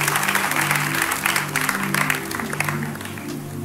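Church congregation during a sermon breaks into steady applause, many hands clapping at once with a low murmur and tones beneath, fairly loud and sustained.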